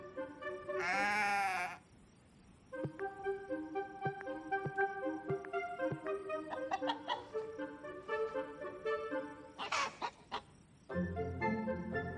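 Sheep bleating on a farm in the morning, with a loud bleat near the start and another later, amid a busy farmyard with fowl and other animal calls over a musical background.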